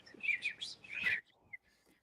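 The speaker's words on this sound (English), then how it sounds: "it's cat TV and the birds are there" Birds chirp and tweet in quick bright bursts, played as cat TV entertainment for a cat; the calls are moderately loud for about a second, then give way to faint scattered tweets with no talking.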